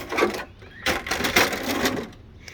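Body cover coming off an ARRMA Felony RC car gives a series of close plastic clicks, rattles and scrapes in uneven bursts, with short pauses between handling noises.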